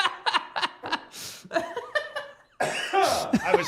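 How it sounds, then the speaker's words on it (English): Someone coughs in a short, rough burst, close and loud, with laughter and chuckling around it across the clip. "I was trying not to cough, and so I wanted to"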